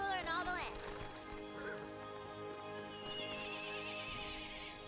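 Queen Butt Stallion, a horse in the fantasy video game Tiny Tina's Wonderlands, lets out a loud whinnying neigh at the start. A sustained game music and ambience bed carries on beneath it and continues afterward.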